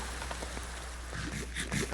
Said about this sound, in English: Okay, apparently not out of the rain. It is still raining.